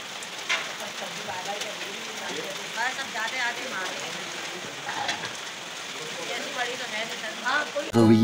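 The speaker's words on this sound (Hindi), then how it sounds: "आज है 22 रजब और सुबह ही सुबह मज़ेदार सी बारिश शुरू हो गई है।" Steady morning rain falls in a continuous hiss on nearby surfaces, with scattered voices and background household activity mixed in.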